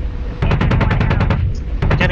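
Rapid automatic gunfire in a naval battle video game, a loud close burst of evenly spaced shots that pauses briefly and then starts again.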